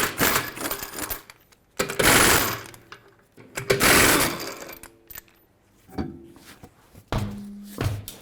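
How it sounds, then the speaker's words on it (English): Lug nuts on a Chevrolet Equinox wheel being loosened with a 22mm socket, heard as several close mechanical bursts of whirring and clattering separated by short pauses, ending with metallic clunks. "Use a 22mm socket to remove all 5 lug nuts and then pull the wheel off."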